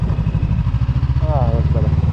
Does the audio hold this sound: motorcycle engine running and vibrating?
yes